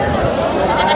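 Goats bleating at the Fatehpur goat market, a crowded livestock fair, with several overlapping bleats amid a steady noisy murmur of the market crowd.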